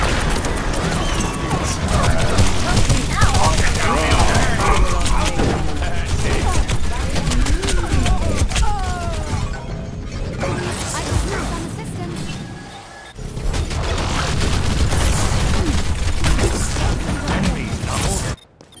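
Dense, nearly continuous gunfire from Overwatch competitive play rattles on with layered weapon effects and game voice lines, briefly thinning near the middle before resuming at full intensity.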